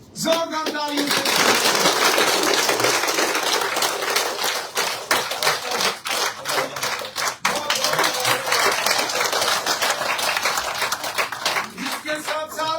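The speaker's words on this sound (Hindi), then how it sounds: "जोरदार तालियों से" Dense, loud clapping from a crowd at a political party joining event at an office, continuous with sharper individual claps standing out and a few brief dips.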